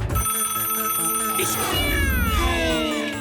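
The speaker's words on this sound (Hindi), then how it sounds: "बंदूकनी जी को फोन करना ही होगा।" An electronic telephone ring, continuous and loud, with warbling tones that rise and slide throughout.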